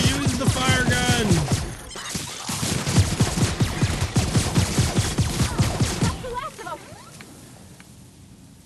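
Rapid gunfire from a fire gun in The Outer Worlds, a dense, loud barrage of shots for about six seconds, with shouting voices over the top, before it cuts off and leaves quieter scattered sounds.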